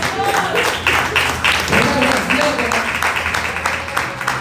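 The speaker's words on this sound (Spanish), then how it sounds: "un fuerte aplauso al Señor" Church congregation clapping in applause for the Lord during a Spanish-language sermon, a dense, steady wash of many hands lasting throughout, with voices and shouts mixed into the crowd.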